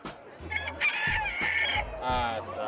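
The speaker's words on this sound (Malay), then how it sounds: "Ayam kaki gajah. Asalnya Vietnam." An elephant-foot chicken, a Dong Tao breed from Vietnam, crows nearby in a ragged, strained call mixed with clucking, heard close over outdoor background noise.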